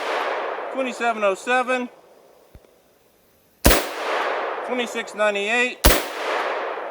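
Two sharp, loud rifle shots ring out during a 6.5 Creedmoor versus .308 Winchester hunting rifle comparison in Alaska, with people talking before each report and a short quiet gap between them.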